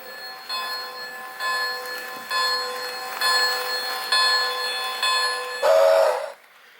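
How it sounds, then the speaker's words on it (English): Lionel HO Polar Express model locomotive running under DCC with its bell ringing in steady repeated clangs, close and fairly loud, ending in a brief higher whistle tone before cutting off. "So there's a ghost bell in its finest recording."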